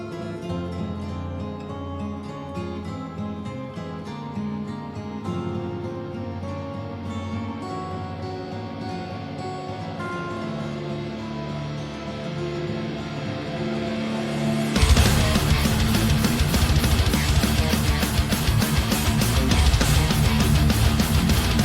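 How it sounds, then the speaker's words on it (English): Two metal song intros play layered together: a melodic guitar passage at moderate level that bursts midway into loud, dense distorted full-band playing. "the intros to those songs, and actually layered them together to see how similar they were"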